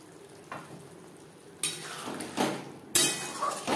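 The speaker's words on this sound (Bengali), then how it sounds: "গ্যাসের ফ্লেমটাকে হাইতে করে দেব আর দিয়ে দেব জল।" Water is poured into a pot of simmering brinjal and rohu fish curry over a high gas flame, giving a sudden splashing hiss in two loud bursts after a few soft clinks, with no talking.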